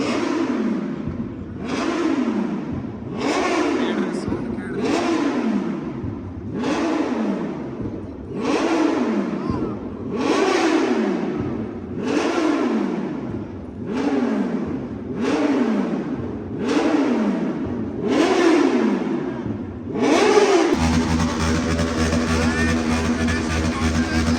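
A motorbike engine at a 2025 auto expo in Tumkur revs hard about a dozen times in a steady rhythm, each surge rising and falling, before settling into a sustained even drone at the end.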